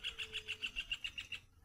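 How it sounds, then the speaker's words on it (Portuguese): A rufous hornero gives a fast, even series of about ten sharp, high call notes that slow slightly and stop, close and clear against a quiet outdoor background. "Olha o João de Barro"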